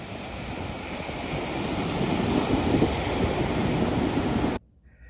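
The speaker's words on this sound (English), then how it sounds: "listening to those ocean waves hit the sandbar" Ocean waves break on a sandbar at a beach, a steady, loud roar of surf with wind noise that continues without a break and then cuts off abruptly near the end.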